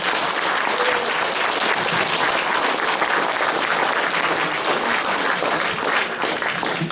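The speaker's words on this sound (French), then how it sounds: "est-ce qu'on peut peut-être l'applaudir et le remercier chaleureusement?" Audience applause at a French-language talk and Q&A session runs loud, dense and steady for nearly seven seconds, a continuous wash of many hands clapping with no voices over it.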